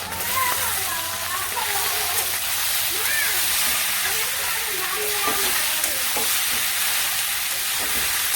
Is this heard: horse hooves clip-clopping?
no